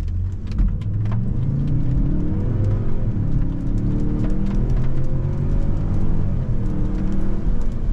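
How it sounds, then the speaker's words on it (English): A 2023 Lincoln Navigator L Reserve pulls away from a standstill, its engine note rising steadily through the gears with a smooth droning hum, heard close from inside the cabin with no talking. "We'll do another takeoff, this time from a stop"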